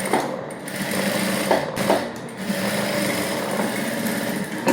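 A sewing machine runs in steady bursts, topstitching the lining of a princess-cut blouse, its fast mechanical whir close and loud with brief pauses between runs.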